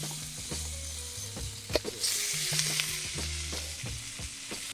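Shrimp frying in a wok for shrimp fried rice: a continuous sizzle with repeated scraping and clanking of a metal spatula against the wok in an irregular rhythm, close and fairly loud.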